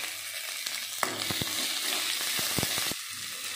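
Chopped onions with a pinch of salt sizzle steadily in a hot pan, a continuous bright frying hiss broken by sharp clicks and taps of stirring.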